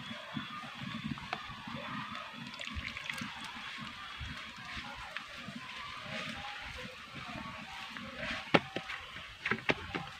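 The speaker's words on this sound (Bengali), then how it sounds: "ঠান্ডা জল দিয়ে চালের গুঁড়োটাকে আমি মিশিয়ে নিচ্ছি" Rice flour being mixed by hand with cold water for pitha dough, soft wet squelching and light dripping with a few sharper clicks and taps close by, fairly quiet and with no voices.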